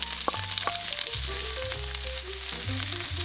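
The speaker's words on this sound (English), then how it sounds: "now we are gonna saute up our onions and bell peppers and garlic in a cast iron skillet" Onions, bell peppers and garlic sauté in avocado oil in a cast iron skillet, a steady close sizzle and crackle running throughout with a few brief clinks, no voices.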